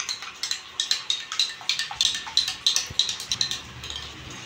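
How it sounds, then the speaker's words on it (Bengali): A spoon whisks yogurt in a bowl, making quick, regular clinking strokes against the bowl, close and clear throughout. "দইটা আমি ভালো করে ফাটিয়ে নেব"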